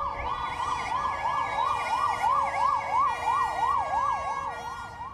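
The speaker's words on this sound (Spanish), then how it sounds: "Un silencio extraño toma las calles, solo a veces roto por el ruido de las ambulancias." A wailing ambulance siren rises and falls rapidly and steadily, loud over faint traffic rumble on otherwise quiet city streets.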